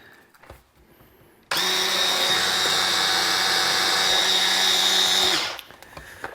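A kitchen blender grinds chilies and cooked bacon in one loud, steady whir of about four seconds that starts and stops abruptly, with quiet moments before and after.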